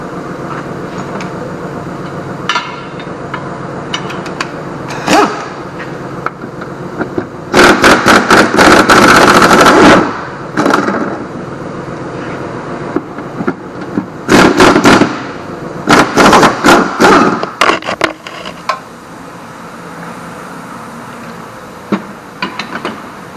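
Impact or power tool on the 13mm center bearing bolts of a 2016 Chrysler 300C drive shaft, firing loud rapid rattling bursts of a few seconds each, separated by quieter gaps and scattered metallic knocks.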